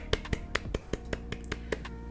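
Hand clapping in a steady, brisk rhythm, about a dozen sharp claps at an even pace, fairly faint over a low constant hum.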